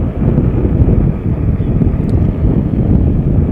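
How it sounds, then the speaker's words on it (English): Strong outdoor wind buffets the microphone in a constant loud rumble, steady and close throughout with no other sounds standing out. "So a little bit windy today."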